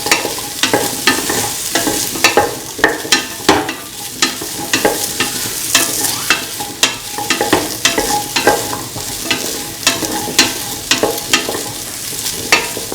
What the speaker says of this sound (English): Mix the ginger and the potato pieces thoroughly with each other